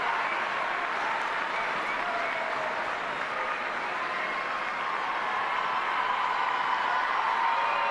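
A large crowd applauds Pope Leo XIV as he arrives at his seat for a catechesis, sustained, even clapping filling the space without a break, with a faint voice running beneath.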